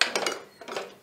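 A spoon stirs broken wheat payasam with strained jaggery syrup in a pot over low heat, a few soft close scrapes and knocks against the metal in about a second.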